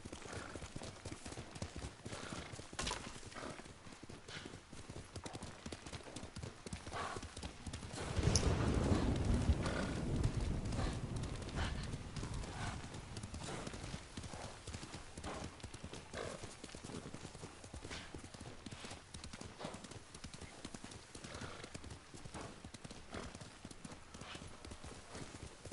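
Horse hooves clip-clop steadily through a long stretch of gameplay in Ghost of Tsushima, a constant rhythmic patter with a brief louder surge partway through and an occasional whinny-like note.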